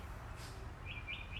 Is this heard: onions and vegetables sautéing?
no